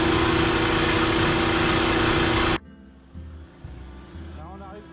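An air compressor runs loud and steady as it builds pressure toward 10 bar, a dense mechanical drone that cuts off abruptly about halfway, leaving a quieter low rumble and a brief voice.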